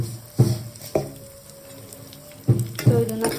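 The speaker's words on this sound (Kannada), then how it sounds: "ದ್ರಾಕ್ಷಿ ಗೋಡಂಬಿ ಹುರ್ಕೊಂಡಿರೋದ್ರಲ್ಲೇ ಸ್ವಲ್ಪ ಶಾವಿಗೆ ಹಾಕ್ಕೊಂಡು ಹುರ್ಕೊಳ್ತಾ ಇದ್ದೀನಿ" Vermicelli with raisins and cashews frying in ghee, a steady low sizzle broken by a few sharp stirring clinks and scrapes against the pan.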